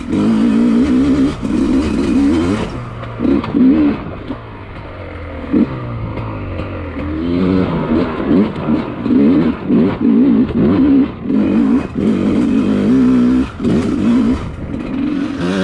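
A carbureted dirt motorcycle engine revs repeatedly, rising and falling in pitch in loud, close bursts with a brief dip to idle, no talking heard.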